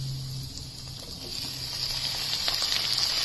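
Chopped tomato going into frying onions for a restaurant-style matar mushroom curry gives a steady close sizzle with faint stirring, growing slightly louder toward the end, with no voices.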